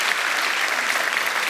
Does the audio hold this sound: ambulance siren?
no